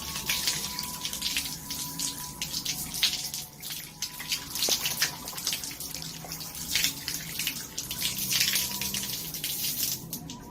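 Hands rinsed under running tap water at a sink during a physical examination, a steady close splashing stream with small irregular splatters throughout.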